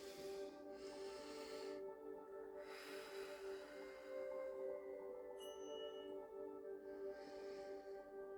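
Slow, deep breaths during a calming breathing exercise, soft airy inhales and exhales in long rhythmic swells, faint and close, with a brief chirpy tone partway through.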